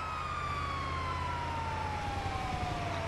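Steady ambulance siren from GTA V gameplay, one long descending wail held over a low rumbling vehicle engine, loud and unbroken throughout.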